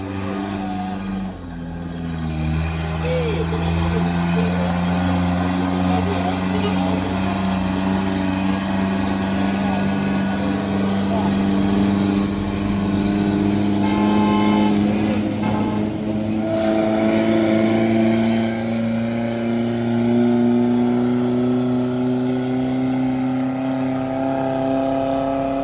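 A brown car tows a private car uphill at Bukit Kodok, its engine droning loud and close in a steady, strained pull whose pitch slowly climbs for the whole stretch.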